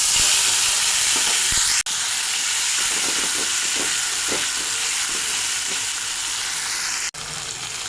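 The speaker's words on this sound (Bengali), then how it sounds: "এখন বেটে রাখা মশলা দিয়ে দেব।" Ground spice paste hits hot oil in a pan after bay leaves and cumin have been tempered, giving a loud, continuous steamy hiss and sizzle, broken by two sharp cuts, with no voices.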